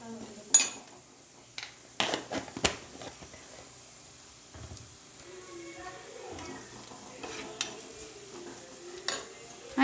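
A spoon scrapes and clinks around a pan as coriander powder is stirred into beef chops, with sharp metallic knocks early on and a soft sizzle underneath, fairly close and otherwise quiet.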